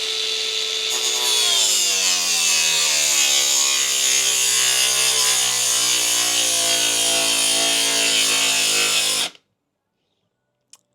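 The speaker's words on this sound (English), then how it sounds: "Grinder, just normal blade on it," Cordless angle grinder with a normal blade cutting through a fascia board: a loud, close, continuous whine whose pitch sags as it bites, then cuts out abruptly into near silence.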